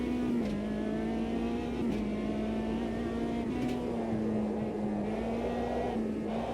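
A race car engine in the sim racing game Automobilista 2, set for a time trial, hums at a steady, high pitch and dips briefly as the throttle eases, close and continuous with no voices.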